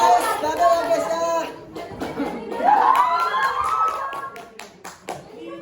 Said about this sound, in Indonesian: Beri tepuk tangan dulu nih.